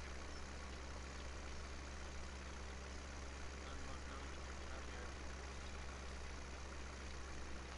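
A tractor engine in the video game Mustang Valley drones steadily at a low, even idle-like hum, faint and unchanging throughout with no other clear sounds on top.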